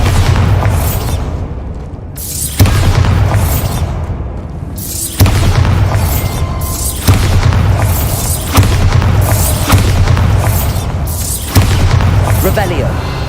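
Bombarda spell explosions in the video game Hogwarts Legacy, a series of five or six loud booming blasts at roughly two-second intervals, each with a sharp onset and a rumbling decay, with a voice speaking over them.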